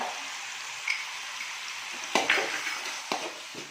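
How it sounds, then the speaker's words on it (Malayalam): Half-cooked biryani rice fries with masala in a pan, a low steady sizzle broken by a couple of sharp spatula scrapes and knocks. "ഈ പാതി വേവിച്ച അരി ഈ കൂട്ടിലേക്ക് നമ്മൾ ഇടുകയാണ് കേട്ടോ"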